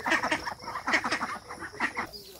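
Seven domestic ducks quack in quick, repeated bursts close by, their calls overlapping in an uneven chorus with no voices present.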